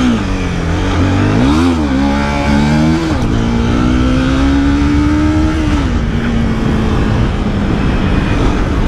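A Honda CBR 250R motorcycle engine revs loud and close during a wheelie, its pitch rising and falling through a few throttle blips before settling into a sustained high whine, with wind rush throughout.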